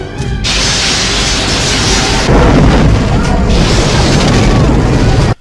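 Phaser fire and explosions from the starship Enterprise battle in the Star Trek II film, a loud, continuous roaring barrage with heavy booms that swells partway through and cuts off abruptly.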